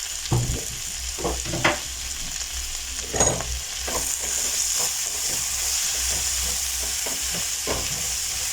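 A teaspoon of tomato paste sizzles steadily in a hot pan for vegan noodles while a utensil scrapes and stirs it in a few nearby strokes, with no voices.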